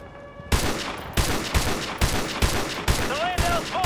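Gunfire in Modern Warfare 2 Remastered: sharp, loud shots in a steady rhythm, about one every half second, over a busy combat background, with brief radio voices between them.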